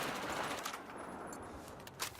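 MTAR-21 carbine firing in Battlefield 4, quick rattling bursts fairly faint under a steady noisy background, lasting only a couple of seconds.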